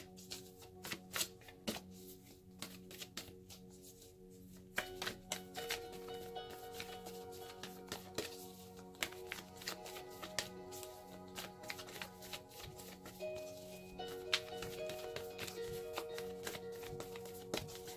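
Tarot cards are shuffled continuously by hand, a dense run of quick riffling taps and soft slaps at close range, steady and unbroken throughout.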